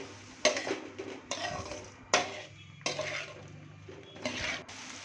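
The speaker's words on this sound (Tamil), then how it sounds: "சேர்த்துட்டு நல்லா கிளறி விடுங்க." Bottle gourd stirred in a cooking pan, a spoon scraping and clinking against the metal in uneven strokes over a soft sizzle, close by with no talking.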